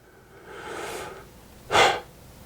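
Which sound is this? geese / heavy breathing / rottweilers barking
heavy breathing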